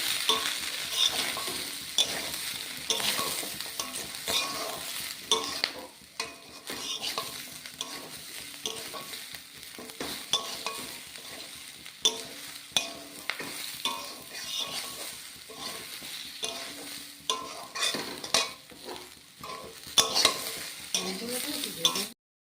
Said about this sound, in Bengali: বেগুন দিয়ে দিচ্ছি পেঁয়াজ কলিগুলোও দিয়ে দিচ্ছি ভালো করে আমি ভেজে নেবো সব একসাথে